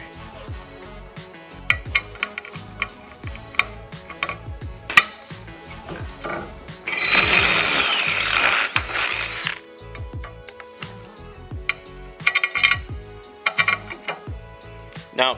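A tapered reamer enlarges plasma-cut holes in metal with repeated clicking and grinding, broken by a louder sustained rasping cut midway, close and alone.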